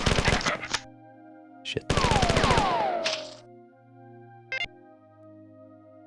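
Gunners firing in the classic video game Marathon: a loud rapid burst of automatic weapon fire, then a second longer volley with swooping, sliding electronic tones, a short sharp shot near the end, and a brief muttered curse.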